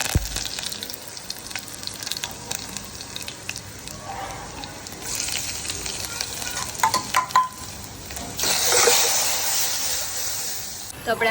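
Cumin seeds hit hot oil for a dal tempering, starting with scraping stirring and light frying crackle, then a loud rushing sizzle swells near the end, close up.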